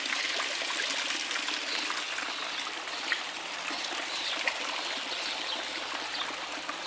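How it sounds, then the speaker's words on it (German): Water pours steadily into a sphere-harmony water installation, a continuous broadband rush and trickle like a small stream, even and moderately close, with no voices. "Heute hast du das Wasser einfach reingelassen."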